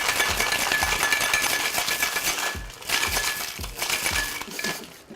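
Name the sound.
cocktail shaker with ice being shaken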